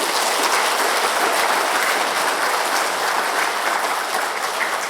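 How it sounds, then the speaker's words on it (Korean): A church congregation applauds steadily during a Sunday service, a dense, loud wash of clapping that holds evenly throughout without pause. "우리 목사님께 큰 박수로 인사드리겠습니다."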